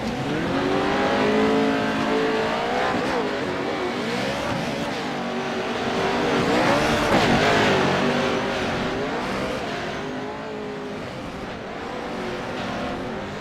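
Pro 2 off-road race trucks roar around a dirt track at Wild West Motorsports, engines revving and surging as they pass through corners and over a hill, loud and continuous with rising and falling pitch.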